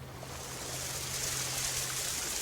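Hot spring water bubbles up and tumbles down over a cascade of pools, a loud, steady rushing and splashing stream heard close and alone.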